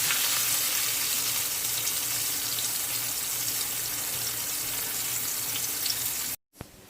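Jamaican-style popcorn shrimp fry in hot oil with a steady, dense sizzle that holds at an even level throughout, then cuts out abruptly near the end.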